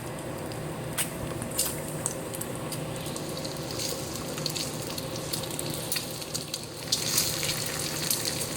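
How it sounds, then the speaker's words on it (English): Potato soup bubbling and spattering in a cooking pot, a steady close sizzle with scattered sharp pops throughout, growing a bit louder near the end. "if you do, it'll start just splattering everywhere like it's trying to do now"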